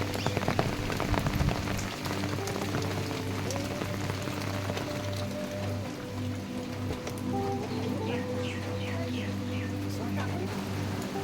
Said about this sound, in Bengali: এদিকে প্রচণ্ড বৃষ্টি হচ্ছে